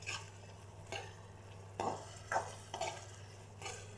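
Aloe vera vegetable curry stirred in a pan, a spoon scraping through the thick mixture in several soft strokes over a faint steady sizzle and low hum, with no talking.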